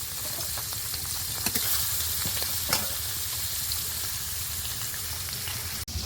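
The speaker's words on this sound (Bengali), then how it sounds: "মাছ ভাজা হতে লাগুক" Koi fish sizzle in hot oil in a pan, a steady crackling fry with a few sharp pops scattered throughout and no talking.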